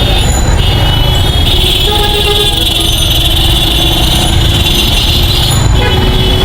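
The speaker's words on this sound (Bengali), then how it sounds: "পুরা রাস্তা যানজট সব রিক্সা উল্টা দিক দিয়ে অনেক রিক্সা এবং মোটর সাইকেল সহ" A congested street full of rickshaws and motorcycles, some driving against the flow and packed tight after school hours, giving a loud, continuous rumble of engines with a long sustained horn tone running through it.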